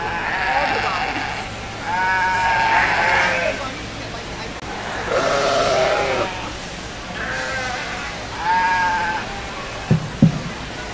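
Sheep bleat repeatedly at a 4-H/FFA sheep breeding show, several loud wavering calls in bursts over a steady crowd murmur, with a couple of sharp knocks near the end.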